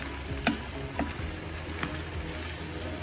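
Tomatoes and mince sizzle steadily in a pan for a spaghetti Bolognese, with a few sharp scrapes and knocks of a spoon stirring through the mixture, close and continuous.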